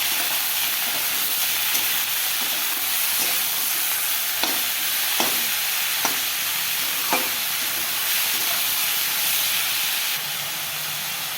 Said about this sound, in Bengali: এবার নাড়াচাড়া দিয়ে নেব।